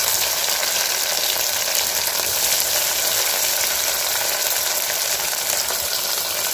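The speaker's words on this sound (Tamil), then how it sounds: "இப்போ இதில் தக்காளியை சேர்த்துக்கலாம்." Tomatoes and chillies fry in a pan for a beef dish: a loud, close, steady hiss and crackle of oil sizzling without break, with no talking.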